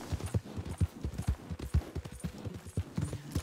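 Horse hooves clip-clop in a steady walking rhythm on the ground in the Red Dead Online video game, moderately close and alone with no talk.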